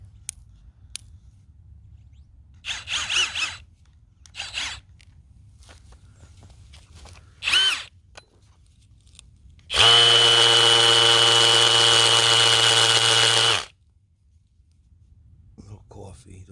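A Metabo 12V brushless hammer drill runs in hammer mode for one loud, steady burst of about four seconds, close by, after a few short clicks and handling sounds with brief talk.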